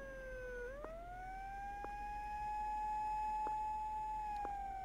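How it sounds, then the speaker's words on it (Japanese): A siren from the horror video game Tsugunohi wails continuously, a steady rising-then-level electronic tone with faint periodic clicks, moderately quiet and heard alone without voices. "まあでもサイレン鳴りっぱなしなんで"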